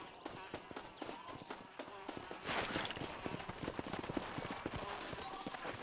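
Horse hooves clip-clop in the Red Dead Redemption video game, a quick, steady run of hoofbeats that carries through the whole stretch at moderate level against a soft background.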